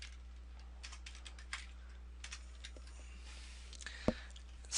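Keys tapped on a computer keyboard while editing a page in Dreamweaver CS6, soft close clicks in scattered short runs over a low background hum, followed by one louder thump.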